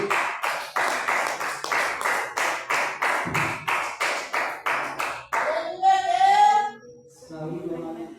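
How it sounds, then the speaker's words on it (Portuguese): A church congregation claps hands in steady rhythmic unison, about two claps per second, before voices and singing take over near the end. "Vamos ter palmas"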